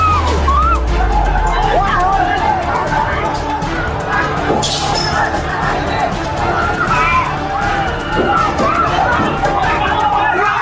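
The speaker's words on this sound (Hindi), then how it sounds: "लेकिन भीड़ जबरदस्त गुस्से में है। लगातार पुलिस वालों पर डंडे और पत्थर बरसा रही है।" An angry protest crowd in Nepal hurls stones at police, producing a dense roar of shouting and babble with scattered bangs and crashes throughout, loud and continuous.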